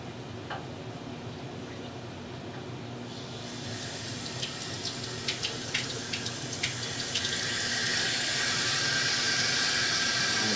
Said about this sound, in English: Turn the water on here in the stationary tub.